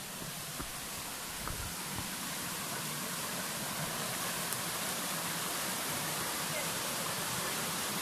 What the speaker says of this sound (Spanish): No, hombre, esa cascada es tremenda.